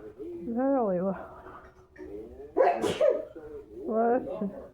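A person lets out one sharp, loud sneeze close by, with voices talking just before and after it.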